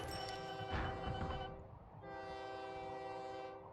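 A video-game train pulls into a station with a sustained horn blast and a second long horn tone, layered over the rumble and clatter of the rolling train.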